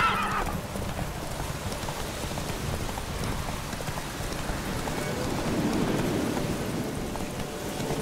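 Roach, a horse in The Witcher 3, gallops in a race with a steady run of hoofbeats and an occasional whinny. Rain patters continuously underneath.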